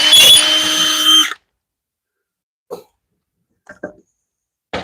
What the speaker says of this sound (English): This is much more difficult than just drilling straight through that wood.